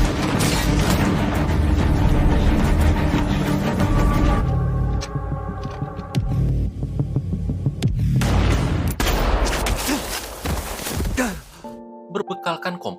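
Bursts of gunfire crack through a loud, busy scene as lamps are shot out, with booms and a low throbbing hum, several shots in quick succession.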